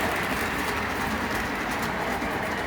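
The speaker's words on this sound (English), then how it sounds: "While the other train passes over and over again." A train passing on a line near a siding where a local switcher holds with loads of ale and beer, a steady, loud broadband rumble and rush throughout with no let-up.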